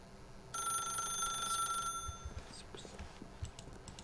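Telephone ringing in the video game The Stanley Parable: one loud electronic ring lasting about a second and a half, then fading into softer clicks and faint rustling.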